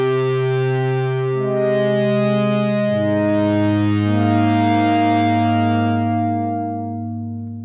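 A Prophet Rev2 synth patch whose second oscillator's wave shape is swept by an LFO, giving sustained held notes with slow, rhythmic rising and falling brightness, loud and steady with one pitch change partway through.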